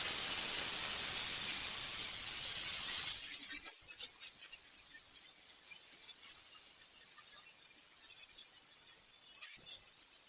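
A 4.5-inch angle grinder fitted with a 36-grit flat pad on a hard disc grinding down metal on a 1950 Ford F1 rat rod: a loud steady hiss-roar for a few seconds, then cutting off to a quieter rough rumble.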